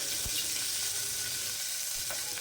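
Ginger garlic paste and pulao spices, bay leaf, marathi moggu, fennel and kasuri methi, fry in oil with a soft, steady hiss, now and then a faint clink or stir.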